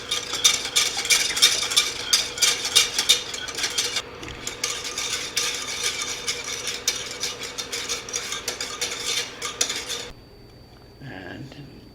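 A utensil stirs a tangzhong of bread flour in a pan over medium heat, scraping and clinking in quick, busy rhythm for about ten seconds before fading to near quiet, with no talking.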